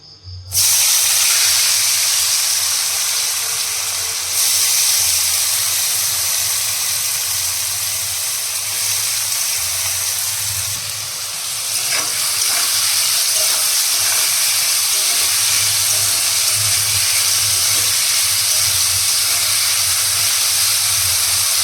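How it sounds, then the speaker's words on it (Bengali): Sliced potatoes frying in hot oil in a pan, a steady loud hiss that runs unbroken from start to finish with slight swells, and no voices over it. "তার জন্য ভাবলাম আলু ভাজাই করি চলো"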